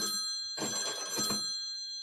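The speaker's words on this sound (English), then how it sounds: "A red phone jiggles." A red telephone rings with a bright, sustained electronic bell tone, loud and close, with a clattering jiggle in the middle of the ring.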